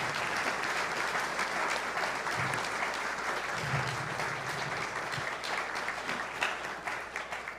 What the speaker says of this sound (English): Let's all give our new members a round of applause.